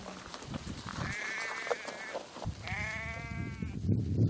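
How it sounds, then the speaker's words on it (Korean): Sheep and goats bleat on a farm, two long wavering calls in succession with shorter bleats around them, fairly close over a steady background of livestock movement and low noise. "배 앞에 무언가 달고 있는 양과 염소."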